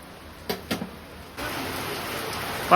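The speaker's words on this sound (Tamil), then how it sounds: "ஆனால் சரியான மழை அடிக்குது" Heavy rain starts suddenly as a dense, steady hiss after a couple of faint knocks, continuing loudly to the end, with a brief voice at the very end.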